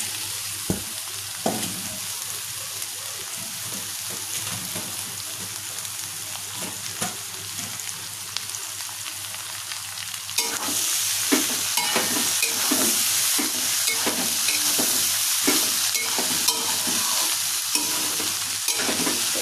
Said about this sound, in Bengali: এটা একদম হালকা লো ফ্লেমে ভাজা হবে